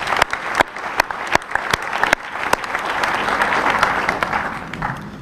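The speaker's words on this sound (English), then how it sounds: "how about another round of applause for the faculty and the administrators of Osan" Graduation-ceremony crowd at Osan American High School on Osan Air Base applauding faculty and administrators: sustained dense clapping with sharp individual claps standing out, swelling steadily and staying loud throughout.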